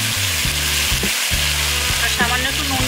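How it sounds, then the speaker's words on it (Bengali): Vegetables mixed with salt and turmeric for Bengali sukto frying hard in a pan, a loud, dense sizzle running throughout with a low rhythmic hum and occasional stirring scrapes. "আমি সবজিগুলোকে হালকা একটু নুন আর একটু হলুদ মিশাবো যাতে সবজিগুলো একটু তাড়াতাড়ি নরম হয়ে যায়, হালকা আর ভাজা ভাজা হয়ে যায়"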